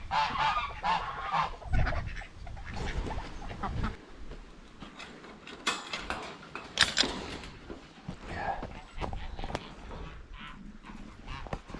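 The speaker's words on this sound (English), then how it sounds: "I think the geese are actually quite happy about" Geese honk in a noisy, irregular series of loud calls, some near and some farther off, with scattered scuffling between them and no voices.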